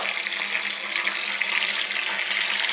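Curry leaves crackle in hot oil for gongura pachadi, a dense, steady sizzling hiss throughout with no break.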